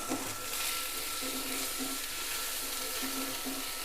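Ground green jackfruit paste sautéing in a hot pan for a Bengali stuffed puri filling, giving a steady, close sizzling hiss that runs through without a break.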